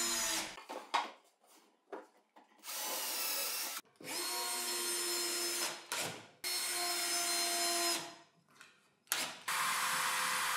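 A power drill drives screws into the wooden top and back of a combined drill press, lathe and router table stand, in repeated loud bursts of whirring separated by short pauses.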